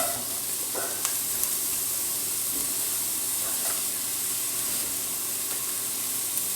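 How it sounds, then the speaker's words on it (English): Garlic and chopped onions sizzling in olive oil in a pan over medium heat, a steady close hiss with a few soft stirring clicks and scrapes. "Chuck some olive oil in there, and then I'm going to chuck some garlic, some chopped onions"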